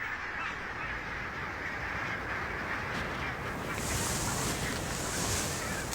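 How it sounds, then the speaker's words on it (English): A large flock of barnacle geese feeds on coastal marshes, their quiet honking and calling spread across a faint, continuous outdoor background with no voices. "the marshes are a playground for huge flocks of barnacle geese"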